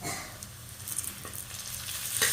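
Tomatoes hit hot oil with browned onions for a brinjal and mutton kulambu, giving a soft continuous sizzle with a few light stirring clicks, close and quiet, without speech.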